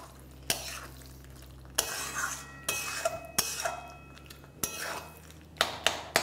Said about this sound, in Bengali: ছানাটা দেওয়ার পরে ফ্লেমটা লো রেখেই ভালো করে একবার এরকম মিশিয়ে নিই